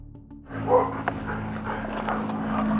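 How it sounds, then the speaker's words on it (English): A sheriff's office police dog searches a shed, panting and snuffling close by with a brief bark-like burst near the start, followed by steady breathing and movement noise. "The dog's coming in."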